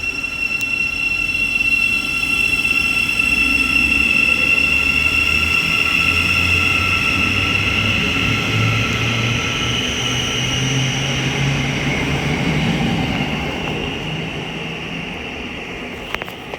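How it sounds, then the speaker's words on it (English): A Thameslink passenger train on the East Coast Main Line at Hitchin rumbles out of the station, a steady loud rolling roar with wheel and motor whine that slowly fades as it pulls away, no voices. "The 1512 Thameslink service from Brighton to Cambridge is now departing."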